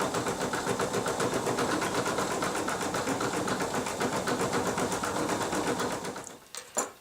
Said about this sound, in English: once it's finished stitching, we're going to remove it from the sewing machine